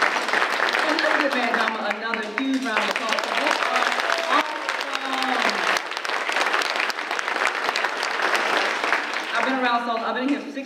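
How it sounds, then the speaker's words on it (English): A crowd at an awards ceremony applauds loudly and continuously while a voice speaks over the clapping for most of its length. "huge round of applause."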